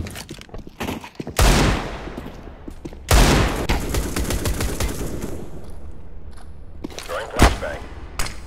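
Counter-Strike gameplay with a flashbang grenade going off. Sharp bursts crack loudly at intervals amid a dense clatter of gunfire and game noise, with a smaller bang late on.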